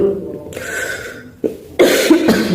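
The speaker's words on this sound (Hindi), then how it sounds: "खांसी बहुत मतलब खराब वाली हो रही है" Several harsh coughs from a viral cold burst out close by, a short one followed after a pause by a longer, rougher fit.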